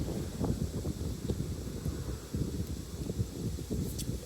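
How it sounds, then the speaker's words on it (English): Strong wind blows outdoors and buffets the microphone, giving a low, gusty rumble that rises and falls continuously at a fairly faint level, with no voices. "Man, it is windy as all hell out here."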